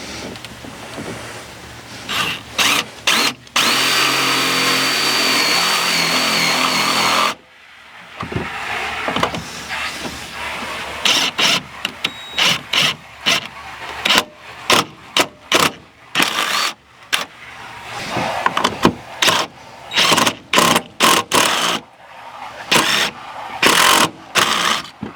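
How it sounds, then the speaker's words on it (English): A stepper bit drills into a plastic Ford Focus headlight housing, a steady whine at first, then broken into many short bursts of cutting as the bit steps wider. "I'm just using a stepper bit. Slowly working our way higher and higher."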